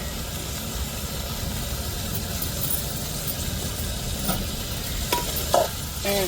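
Chicken fries in a pan with curry masala powder, giving a steady dense sizzle and stirring scrape, close and continuous, with a couple of louder clinks toward the end.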